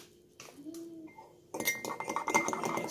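A spoon clinks and scrapes against a mug while keto chocolate mug cake batter with butter is mixed, starting as a few scattered taps and then turning into steady, busy clattering stirring close by.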